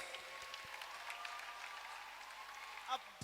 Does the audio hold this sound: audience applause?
yes